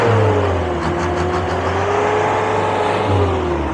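A boom truck's engine revs hard and holds a steady, loud drone while straining to pull at a Japan surplus garage, with the pitch slowly sliding and a low rumble underneath.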